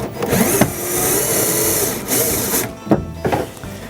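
A cordless drill with a number 2 Phillips bit backs a bolt out of a Jackson kayak during a rudder install. Short whirring bursts run close by and stop and start a few times.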